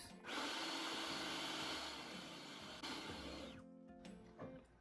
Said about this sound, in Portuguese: eu vou colocar as gemas e vou bater por mais 5 minutos